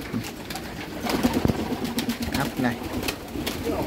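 American Giant Runt pigeons coo on a pigeon farm, with repeated low, throaty coos close by alongside rustling and a voice speaking briefly.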